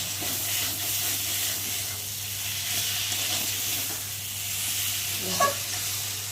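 A tomato and spice masala, already sticking slightly to the bottom of the pan, hisses with a steady sizzle while being stirred, with one soft scrape near the end and no voices.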